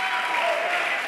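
Congregation applauding during a Spanish-language church sermon: a dense, steady wash of many hands clapping together, loud and continuous for about a second with no pauses.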